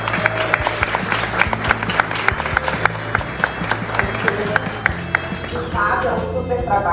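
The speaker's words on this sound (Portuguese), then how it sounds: "E aí, palmas para vocês também." An audience claps steadily in sustained applause, with a voice speaking over the clapping near the end.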